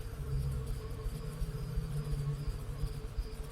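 Swarming insects buzz in the video game Stasis, a steady, dense drone with a pulsing low hum that holds evenly throughout with no voices.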